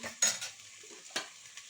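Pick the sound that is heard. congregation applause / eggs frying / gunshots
eggs frying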